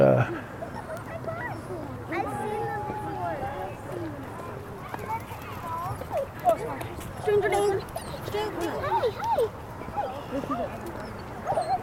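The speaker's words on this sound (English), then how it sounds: "I haven't seen a dog swimming in a long time. Golden retriever." A golden retriever yips and barks intermittently near a lake, with people talking over much of it and outdoor background noise.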